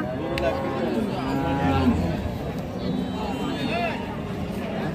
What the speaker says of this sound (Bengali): একটা খুবই সুন্দর হাট সেরা একটা গাভী দেখতেছি, শাহিওয়াল জাতের বাছুর